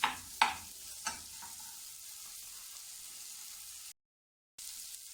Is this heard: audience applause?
no